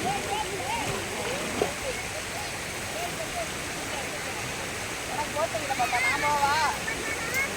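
Rushing stream water, rising in depth, pours in a steady broadband roar throughout, with several people's voices talking and calling over it at close range.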